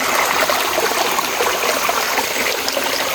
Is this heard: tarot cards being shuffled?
no